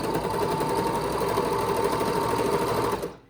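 A sewing machine stitches binding onto a scrub cap in a steady, rapid mechanical whir that runs close and continuous before stopping abruptly near the end.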